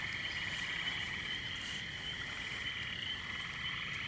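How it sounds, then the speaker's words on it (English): A dense chorus of Illinois chorus frogs calls steadily and without pause, a continuous high trilling mass of overlapping voices filling the night air at moderate distance, with no talking. "Well, let's go find some frogs."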